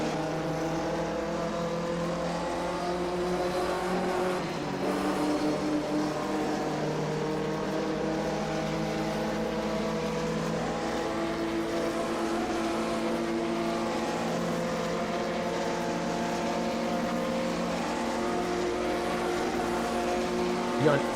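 Engines of 1958 Formula 1 cars race down the long straight at the Italian Grand Prix in a sim race, a steady droning roar under a commentator talking throughout.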